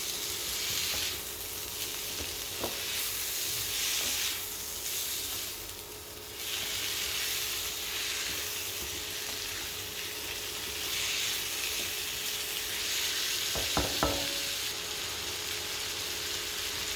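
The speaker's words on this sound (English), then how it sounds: "And we continue to stir fry." Broccoli and other vegetables stir-fry for lo mein, a steady close sizzle and hiss with occasional clinks and scrapes of the utensil against the pan, no voices.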